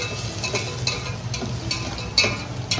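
Chopped vegetables with onion are stirred in a hot pan for soup, a soft low sizzle under repeated light scraping strokes of a spoon, roughly every half second, quiet and close.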